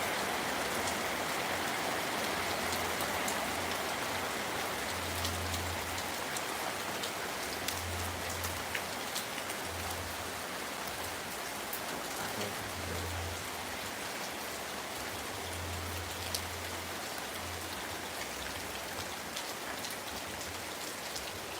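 Heavy rain pours down outside a home, a steady broadband hiss of drops drumming on surfaces, constant and fairly distant, with a faint low hum coming and going beneath it.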